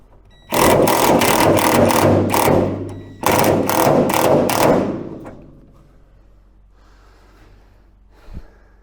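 An engine hoist lifts an MGB's engine and gearbox in repeated rhythmic bursts, a fast clattering ratchet-like rasp in two long runs, then fades into quiet with a faint knock.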